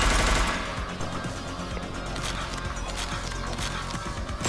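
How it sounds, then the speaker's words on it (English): A shotgun fires in the video game Hotline Miami 2 amid dense, continuous blasts and crashing game noise, loud and close, with no talking. "Shotgun."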